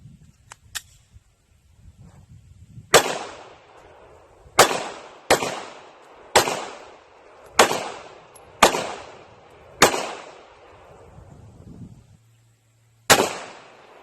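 Shots from a surplus firearm, eight sharp loud cracks spaced about a second apart, each with a short decaying echo, preceded by a few faint mechanical clicks.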